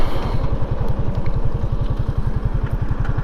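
A motorcycle engine runs steadily with a rapid, throbbing low pulse, loud and close, with no voices over it.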